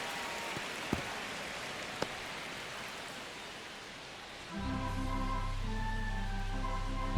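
Steady rain falls in MLB The Show 25, a soft continuous hiss with a couple of sharp ticks, until a low, loud hum and tonal ambience enter partway through and carry on over the rain.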